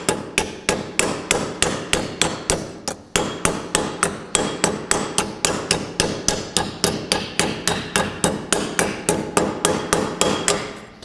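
Sheet metal is struck on a small anvil in a steady, fast rhythm of sharp, ringing hammer blows, close and loud, with one brief pause near the start and no talking.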